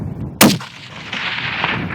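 A single loud rifle shot fired at a bighorn sheep ram outdoors, a sharp close crack followed by a rolling echo that fades over the next second.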